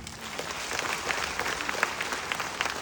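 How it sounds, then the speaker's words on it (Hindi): An audience claps and applauds at a business event in Nepal, a dense, steady wash of many hands that stays loud from start to finish. "एक जोरदार ताली"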